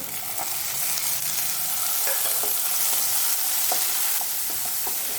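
Chopped onions and tomato sautéed in a pan for sambar, a loud steady sizzle with brisk stirring and occasional utensil scrapes, close and without talk.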